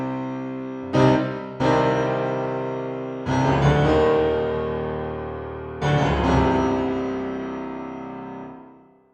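A sampled Yamaha CFX concert grand piano, captured in the concert room mix at Synchron Stage Vienna, plays a few slow, full chords that ring out with a long, roomy decay, with no talking.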